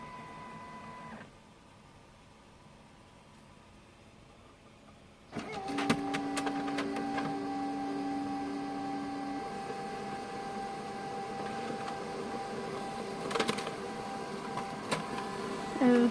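An HP Color LaserJet Pro M254DW laser printer stays quiet briefly, then whirs into a steady mechanical hum, printing a page with a few clicks and rattles along the way. The sound is fairly close.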